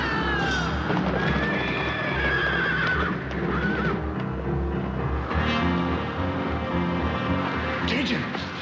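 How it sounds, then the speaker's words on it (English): Several loose horses, spooked by thunder, whinny and neigh loudly over thudding hooves, with rumbling and shouting voices mixed into a busy, chaotic scene. "Cajun, Lawyer, the horses are loose"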